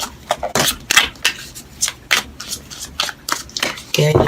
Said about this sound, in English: Okay, I'm going to shuffle 2 more times